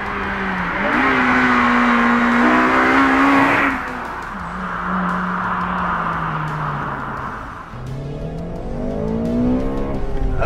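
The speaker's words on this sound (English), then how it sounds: "under the bonnet, this has a 2-litre naturally aspirated VTEC petrol engine" A Honda Civic Type R FN2 with a 2-litre naturally aspirated VTEC petrol engine revs hard through the gears, its rising howl climbing in pitch, dropping at each shift and building again, loud and close.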